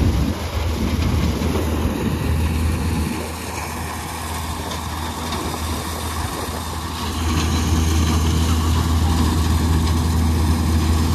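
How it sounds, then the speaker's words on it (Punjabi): A tractor engine drones steadily and fairly loudly in a field during a maize harvest, where a combine harvester is also working, with a constant low hum throughout. "ਆਹ ਇੱਕ ਪਾਸੇ ਆਪਣਾ ਟਰੈਕਟਰ ਚੱਲ ਰਿਹਾ,"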